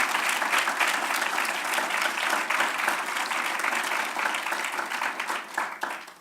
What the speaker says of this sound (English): Let's have one more round of applause for all of our honorees.